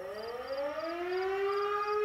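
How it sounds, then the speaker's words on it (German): A rising civil-defense siren from the firefighting simulation game Emergency 20, during a home smoke-detector call, winding up in pitch and swelling steadily louder with no talk over it, with a faint repeated beeping in the background. "Sirene ist ausgelöst worden"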